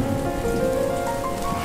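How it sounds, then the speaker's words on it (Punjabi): Steady rain falls in Punjab, a dense, even hiss of drops on surfaces that holds at a constant level for the whole stretch, with no voices over it. "ਪੰਜਾਬ 'ਚ ਪੈ ਗਿਆ ਮੀਂਹ,"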